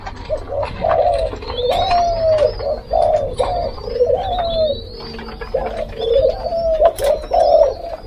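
Spotted doves in a breeding cage coo repeatedly in a steady rhythm of soft low calls, close and clear, over a constant low hum, with faint higher chirps from other birds behind.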